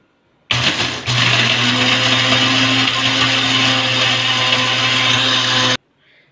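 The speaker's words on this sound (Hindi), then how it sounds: "तो अब हम इसको ग्राइंड कर लेंगे बड़े अच्छे तरीके से" An electric grinder whirs loudly while grinding homemade chaat masala spices. It starts abruptly, its pitch steadies after a second, and it holds a strong constant whine for about five seconds before cutting off.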